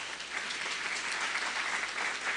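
A church congregation applauding together, dense continuous clapping filling the room at moderate volume for a couple of seconds, with no speech over it.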